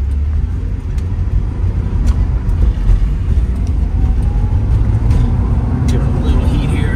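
A 1989 Porsche 944 S2 with a five-speed gearbox pulls hard toward a 5,000 RPM shift, its engine giving a steady, loud, close rumble heard from inside the car, with a voice faintly over it.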